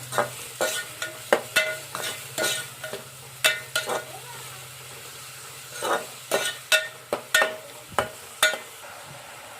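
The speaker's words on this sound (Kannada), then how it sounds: "ಇದು ಇವಾಗ ಎಣ್ಣೆಗೆ ಒಂದು ಸ್ವಲ್ಪ ಕೆಂಪಗಾಗಿ ಫ್ರೈ ಮಾಡ್ಕೋಬೇಕು ಮೊದಲು" Food sizzles steadily in hot oil while a spatula scrapes and clinks against the pan in repeated, uneven strokes, close and clear.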